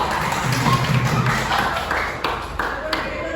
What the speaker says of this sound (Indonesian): tepuk tangan buat jelas